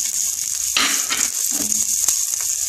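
Onions and chopped green chili frying in a pan for aloo chop, a close, steady high sizzle with a few louder hissing surges as ingredients are stirred.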